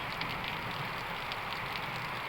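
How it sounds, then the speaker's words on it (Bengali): Early morning rain in Dinajpur, a steady, soft, even patter of drops on surfaces with no voices. "আজ সকাল থেকে ভোর থেকেই বৃষ্টি শুরু হয়েছে।"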